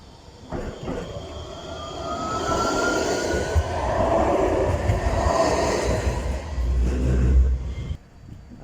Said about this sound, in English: and the second train is a 156, it's a 153 and a 156-4